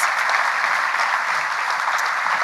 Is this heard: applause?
yes